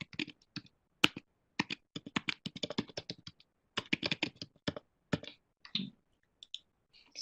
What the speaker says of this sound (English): just my typing there